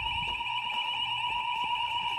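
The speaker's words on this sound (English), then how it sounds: "Oh guys, I just pulled the fire alarm." A school fire alarm rings continuously, a steady sustained electronic tone heard from a distance over faint background noise.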